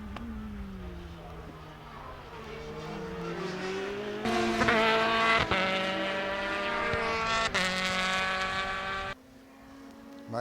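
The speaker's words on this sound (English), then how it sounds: "So we have 2 fairly slow cars there out on the track now." Race cars circulating a track at a BOSS Ireland race, engines droning and rising in pitch as they pass, with loud gear-change jumps and a fading exit near the end, heard from trackside.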